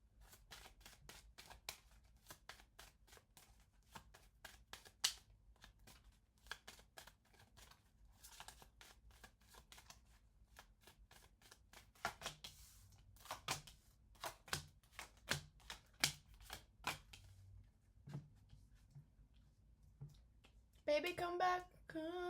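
Quiet handling of a Skipper deck: soft rapid riffles and a run of crisp snaps and taps as cards are shuffled and drawn, growing busier toward the end, with faint speech underneath.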